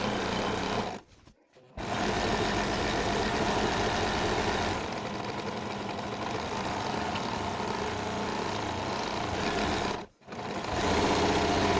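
A sewing machine stitches an apron with a rapid, steady mechanical whir. It breaks off briefly twice and continues at a slightly softer level in between.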